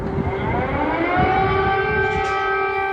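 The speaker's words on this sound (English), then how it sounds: "Sirens." Civil defense sirens wail in war footage from Ukraine, several overlapping tones holding steady and loud throughout with no talk over them.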